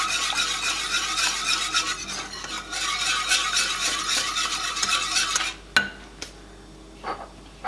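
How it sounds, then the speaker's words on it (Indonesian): A spoon stirs flour into lasagna sauce in a metal pan, giving continuous rapid scraping and clinking, followed by a few sharp isolated knocks of utensil on cookware near the end. "Masukin terigu. Aduk biar dia nggak menggumpal."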